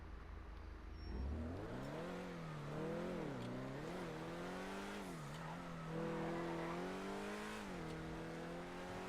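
A Grotti Cheetah Classic sports car in GTA Online drives with a loud, close engine whose pitch rises and falls through repeated revs and gear changes, steady throughout, without talk.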